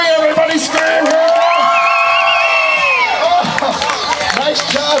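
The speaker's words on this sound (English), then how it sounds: "on the count of 3, everybody make some noise for Archer. Here we go. 1, 2, 3, everybody scream." A crowd at the 2022 Indiana State Fair screams and cheers loudly for a jumper named Archer, a dense sustained roar of voices with high whoops and children's shrieks that swells and then fades.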